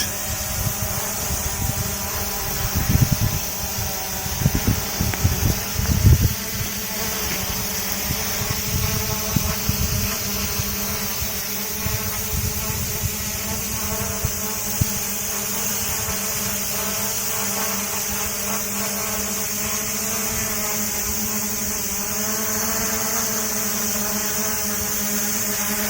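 Aircraft engines run at a steady idle: a continuous droning hum with a constant whine, a few thumps and rattles early on, then an even drone, close and moderately loud with no talking.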